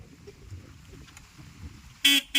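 A motorbike horn gives two short, loud honks close by near the end, the first slightly longer than the second, after a stretch of quiet outdoor background.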